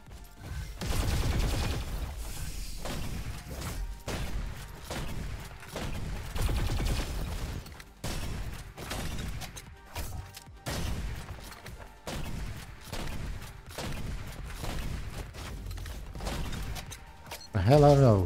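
A laser turret in the RoboQuest shooter fires repeated sharp energy blasts in an uneven rhythm, mixed with other game effects, while a player talks over the action.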